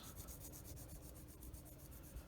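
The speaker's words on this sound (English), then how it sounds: "I use my sanding stick" A sanding stick rubbing back and forth over the cylindrical plastic parts of an Italeri 1/35 M47 model tank, making quiet, close, even rasping strokes in a steady rhythm.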